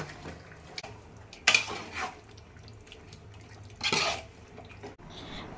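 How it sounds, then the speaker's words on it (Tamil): Chicken biryani masala with fried onions being stirred in a cooking pot: two scraping bursts of a spoon against the pot over a low steady background. "ஒரு வாட்டி மிக்ஸ் பண்ணிக்கலாம்."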